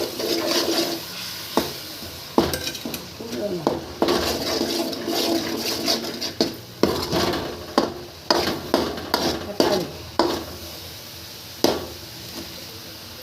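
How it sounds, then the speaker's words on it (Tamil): Masala being stirred in a cooking pot for a Tamil-style intestine curry, with sizzling frying and repeated scraping and clanking strokes of a spoon against the pot, close and fairly loud, with no talking. "கிண்டி விடணும்."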